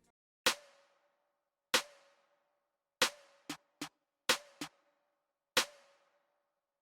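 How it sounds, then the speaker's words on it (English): Seven sharp hits from three layered snare drums, standing alone, mostly spaced about a second apart with a few quick extra accents between, each leaving a bright ringing tail. "I added 3 snares, and I laid these snares on top of each other"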